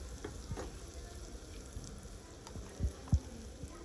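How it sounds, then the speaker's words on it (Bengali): Onion paste sautéing in a pan for a country chicken and potato curry, a continuous low sizzle with a few soft stirring knocks and two thuds near the end, close and fairly quiet, no speech. "পেঁয়াজ বাটাটা দেওয়ার পরে আমি একটু কষিয়ে নিয়েছি"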